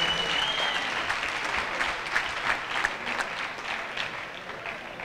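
Audience applauds the Illinois Boys All-Stars volleyball team at a 2012 all-star game, a steady, dense wash of clapping lasting throughout, fairly loud and close, with no talk over it.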